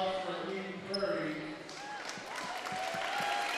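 A crowd at a high school girls' basketball game applauds a team during a trophy presentation, moderate clapping under an announcer's voice, with sneaker squeaks and ball bounces on the court.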